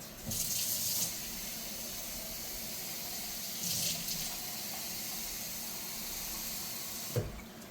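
Kitchen tap runs warm water into a pot of chili, a steady close hiss of flowing water for several seconds with two louder splashing surges and a small knock near the end.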